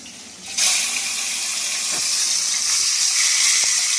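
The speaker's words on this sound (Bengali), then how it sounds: "কড়ার মধ্যে সরষের তেল দিয়ে দিচ্ছি। এবার মাছের মাথাটা ভাজবো।" Fish head dropped into hot mustard oil in a wok, bursting into a loud, steady sizzle that starts abruptly and crackles continuously, close by, with a couple of faint clinks.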